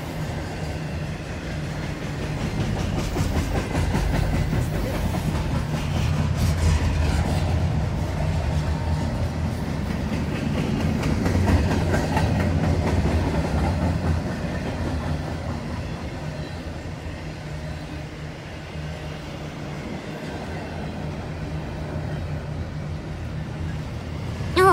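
A CSX freight train rolls past in Moreland, Georgia, giving a steady, loud low rumble that holds for the whole stretch, with faint voices talking underneath.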